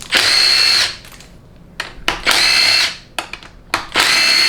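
A power drill removes bolts from a 4L60E transmission during a teardown, with three loud whirring bursts of about a second each, separated by short pauses filled with clicks and clanks.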